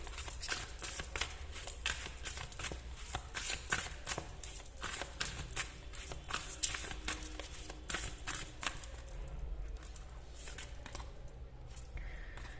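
Tarot cards being shuffled, a steady run of soft riffling and slapping flutters throughout, fairly quiet against a low background hum, thinning out near the end.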